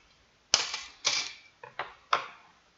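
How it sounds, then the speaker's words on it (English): Decent scissors snip through craft material for terrain building, five sharp close cuts in an uneven rhythm, each a crisp click with a short trailing rasp, in an otherwise quiet room. "you can cut through this with a decent pair of scissors"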